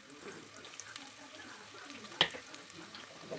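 Long-sliced onions crackle and sizzle softly in hot oil in a home kitchen, a steady faint frying hiss with one sharper clink near the middle.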